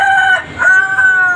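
A rooster on a poultry farm gives a loud, close crow that rises, breaks briefly and then holds a long, strained final note.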